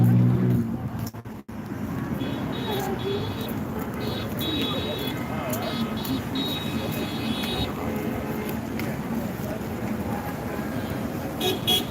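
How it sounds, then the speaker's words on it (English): Car horns honk intermittently amid steady traffic and crowd noise at a Hands Off protest in South Burlington, Vermont, with short toots over a continuous roadside din. "People honking are for it."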